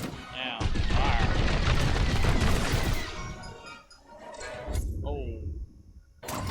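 Starfighter cannon fire in the video game Star Wars Squadrons, a dense sustained barrage of rapid blasts that fades into intermittent shots, mixed with engine roar, explosions and in-game radio voices.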